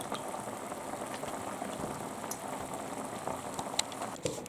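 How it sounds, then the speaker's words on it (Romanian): Hot water bubbles and simmers steadily in a pot used to melt gelatin in a water bath, a faint continuous seething with occasional small pops. "Punem într-un vas cu apă, da, fierbinte, care fierbe, și topim în felul acesta."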